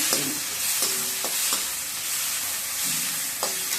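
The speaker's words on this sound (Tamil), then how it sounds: "எல்லாம் போட்டு ஒன்றா வதக்கி" Sour raw mango and drumstick pieces sautéing together in a pan for a curry: a steady close sizzle with several sharp spatula scrapes and knocks spaced through it, no voices.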